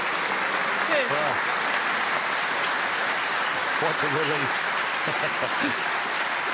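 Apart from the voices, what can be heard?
snooker crowd applauding a pot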